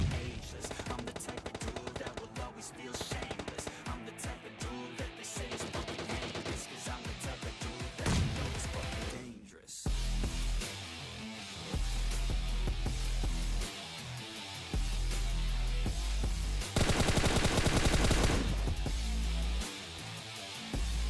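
Rapid gunfire and bursts ring out in a PUBG Mobile match, dense and continuous over a loud music track, with sharp repeated shots and heavy impacts throughout.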